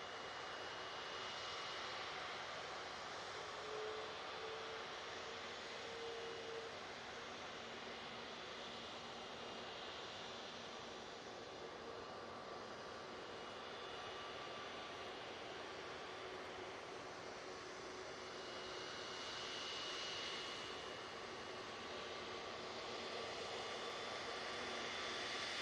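An Emirates airliner lands at Manchester Airport, a broad, steady jet roar heard from a distance that stays fairly constant and faint, with a slight swell in places and no talking.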